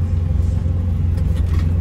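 Engine rumble from a red ZAZ Zaporozhets car with a manual gearbox, driving near Chernobyl, a close, loud, low throbbing drone, with no talk.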